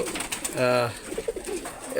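A male pure Prince Kamagar pigeon coos in a brief rolling burst close by, mixed with someone talking nearby.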